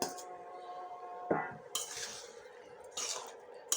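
Potatoes go into a pot of beef curry and get stirred. Faint scrapes and clinks of a spoon against the pot come in a few separate strokes, with no talking.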